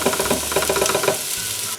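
Onions sautéing in a pan while chili is being made, giving a steady close sizzle with a few stirring scrapes and no talking.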